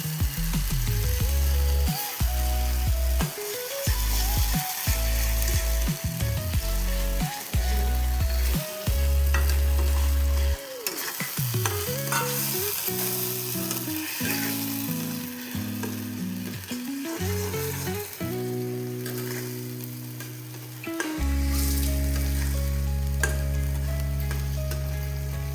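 Food frying in a pan with cumin powder and salt gives off a loud, continuous sizzle with stirring scrapes, close up, running steadily throughout alongside strong tonal humming.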